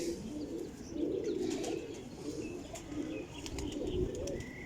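High-quality flying pigeons coo in low, rolling, repeated phrases close by, with faint chirps and rustles in the background and no talk.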